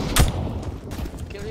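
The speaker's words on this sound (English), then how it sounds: "I'm throwing the flashbang." A single sharp, loud flashbang grenade burst going off in the shooter game CS:GO, over in a split second and followed by a low rumbling game background.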